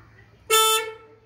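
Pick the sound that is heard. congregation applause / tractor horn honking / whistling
tractor horn honking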